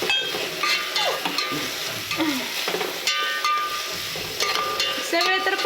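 Onion frying and being stirred in a pan, with steady close sizzling and repeated scraping strokes throughout, plus a few brief metallic clinks.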